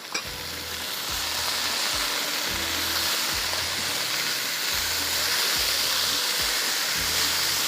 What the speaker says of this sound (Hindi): अच्छी तरह से आपने इसको इस तरह से फ्राई करना है